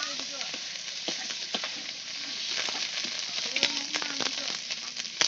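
Ginger and turmeric fry in hot oil with cumin and bay leaf for a vegetarian dish, a steady, close sizzle with small pops and stirring clicks the whole time.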